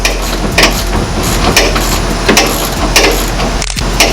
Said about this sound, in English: I'm gonna go ahead and tighten these up